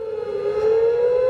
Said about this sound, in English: Also, sirens are going off in certain cities.